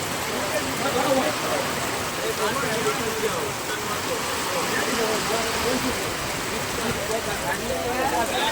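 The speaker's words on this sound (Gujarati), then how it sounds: "અત્યારે જામનગરમાં ભારે વરસાદ પડી રહ્યો છે" Heavy rain pours down in a steady, dense roar throughout in Jamnagar, with a person talking over the downpour.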